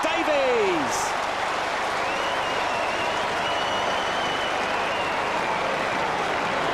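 A large stadium crowd at a 2005 Wizard Cup AFL quarter final, Carlton versus Melbourne, roars and hoots continuously and loudly at a player while a commentator talks over it.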